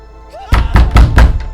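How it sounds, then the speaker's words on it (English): Fists pound against a shop window's glass in four heavy, evenly spaced thumps, loud and close with no voices. "slammed his fists against the glass"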